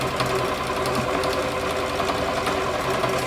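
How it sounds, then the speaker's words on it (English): A sewing machine stitches fabric in free motion while sewing a buttonhole, giving a steady, fast mechanical chatter that runs loud and continuous from start to finish. "I'm going to lower my needle down. I'm going to start stitching this way."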